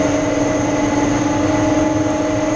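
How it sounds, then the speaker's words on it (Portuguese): A Euroatlantic airliner landing at Lajes air base on Terceira Island, a steady loud jet engine drone with a constant whine, close and unbroken, with no voices. "Já está aqui perto de pousar aqui na base aérea das Lajes"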